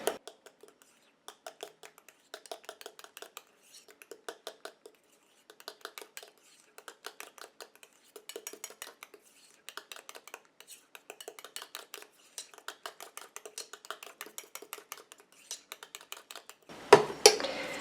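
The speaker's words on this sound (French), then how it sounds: "Je mélange." A homemade DIY hair conditioner mixture is stirred in a container, giving a steady run of light clinking and scraping taps, close and fairly quiet, ending with a louder rustle.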